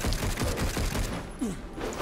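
Rapid bursts of charge shots fire in the video game Darksiders Genesis, a dense, loud volley of repeated blasts over about two seconds.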